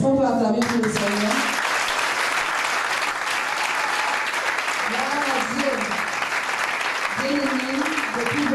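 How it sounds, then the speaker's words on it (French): Church congregation clapping and applauding in praise for the Lord, a steady dense wash of claps lasting several seconds, with a voice speaking and calling out over it at the start and end. "Est-ce qu'on peut acclamer pour le Seigneur?"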